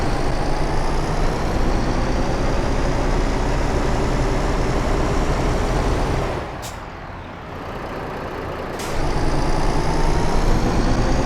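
A Volvo truck engine in Euro Truck Simulator 2 droning steadily and loudly, then dropping off briefly with a sharp air-brake hiss before the engine note comes back.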